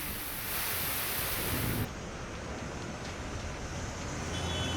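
Heavy monsoon rain pours outdoors in Mumbai's western suburbs as a steady, dense broadband roar, with a wind-like rush that eases slightly partway through.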